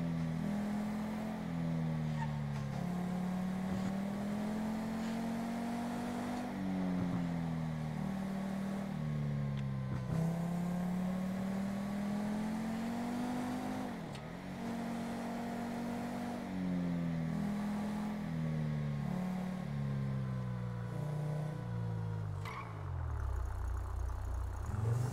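A car engine in a GTA video game drones steadily and climbs through repeated gear-like pitch rises as the car accelerates, then drops to a low rumble near the end, with no talk over it.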